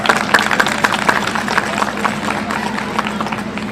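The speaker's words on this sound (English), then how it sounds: "I would like a good round of applause for our hosts for today" A school event audience of parents applauds the student hosts in a hall, producing a continuous dense clapping that carries evenly and fairly loud throughout, with some crowd murmur mixed in.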